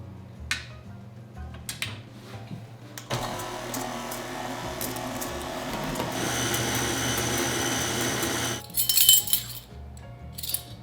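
Cheesecake batter is whisked with an electric mixer in a bowl, a steady whirring run of several seconds with clinks of the beaters against the bowl before and after.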